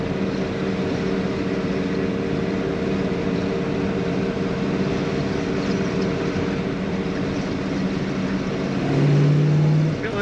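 A 1967 Pontiac GTO two-door hardtop drives with its V8 engine held at steady revs, a loud, even drone heard from inside the car, with a brief surge in the final seconds.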